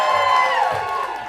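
Audience at a live comedy show cheering, whooping and applauding, a loud, steady crowd roar with high shouts sustained for the whole moment.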